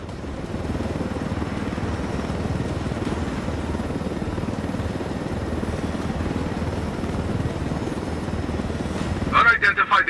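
A helicopter in the video game Ghost Recon Wildlands drones with a loud, steady rotor rumble throughout, ending in a burst of sharp mechanical noise.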